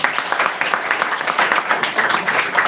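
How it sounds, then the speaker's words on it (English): An audience at a MoU signing ceremony between Krishi Jagran and HDFC Bank gives a round of applause, steady close clapping filling the whole stretch with a faint voice underneath. "I think you all should deserve a big round of applause"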